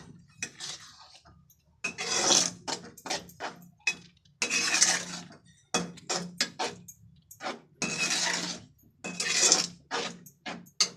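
A spoon stirs sugar into semiya kesari in a pan, producing a rhythmic series of about a dozen short scraping strokes separated by brief silences, close and fairly crisp.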